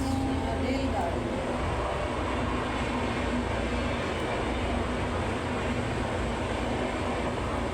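A passing train, heard as a continuous loud rumble and rattling roar that holds steady throughout, close by and alone.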